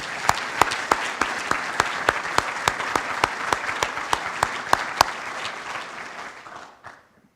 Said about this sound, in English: How about another big round of applause for the Ryans?